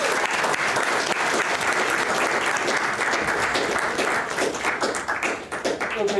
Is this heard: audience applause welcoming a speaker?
yes